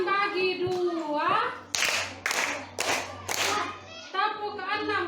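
Children in a classroom clap hands in a counting game, a run of four or five sharp, close claps in quick succession between stretches of an adult voice speaking, with kids' voices mixed in.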